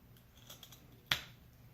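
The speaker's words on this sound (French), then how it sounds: "pour faire le fanion, je le coupe en 2" A single crisp snip of scissors cutting a paper pennant for a handmade autumn card, close and sharp after a quiet moment, alone.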